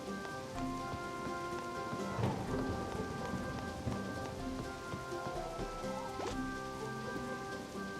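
Steady rain patters in the video game Harvest Moon: Animal Parade over a constant tonal hum, with faint rumbles of thunder in the background; no voices.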